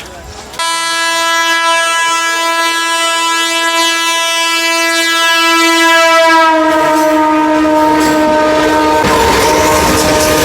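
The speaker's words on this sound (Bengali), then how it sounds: "এটা লোকাল ট্রেন লোকাল ট্রেন" A South Indian local passenger train sounds a loud, sustained horn close by, holding its tone for nearly ten seconds as a heavier rumbling wash of rolling noise builds underneath toward the end.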